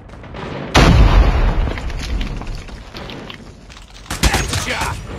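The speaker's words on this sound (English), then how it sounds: "Grenade out." Grenade blast in the Call of Duty Mobile game, a loud booming explosion that rumbles and fades across a few seconds, followed by a second sharp burst of gunfire-like cracks near the end, with a voice heard in the mix.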